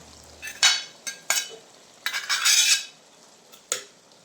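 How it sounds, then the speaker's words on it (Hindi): Green beans tipped into a pan of keema that has released its oil, giving a few sharp broadband scrapes and clatters, with a longer rustling burst of sizzle and stirring in the middle, close and fairly loud with no talking. "अब हम इसमें अपनी फलियां डालेंगे।"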